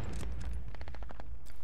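A squad fires on command during a platoon squad competition: a rapid burst of overlapping gunshots, loud and close, crackling in quick succession over a heavy low rumble.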